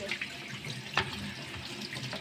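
Capers are washed and rinsed under a running kitchen tap, a soft steady splash of water with a couple of brief clinks and sloshes, quiet and close.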